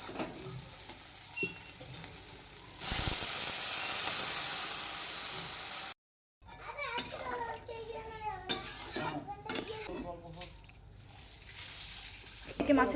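Spice paste for a fish curry fries in a pan with a loud, steady hiss and sizzle lasting about three seconds. After a short silence, a person talks over softer stirring and clinking.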